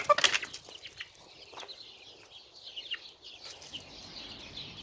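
Hens and small chicks in a backyard pen, fed with lettuce, give soft scattered clucks and high peeps at moderate distance, with a brief flurry of activity at the start.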